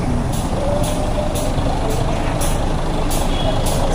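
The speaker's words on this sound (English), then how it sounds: "It's like this huge truck." A huge petroleum tanker truck stands under repair on an Eastleigh street in Nairobi, giving off a steady, heavy roar. Sharp air-brake hisses pulse through it at regular intervals.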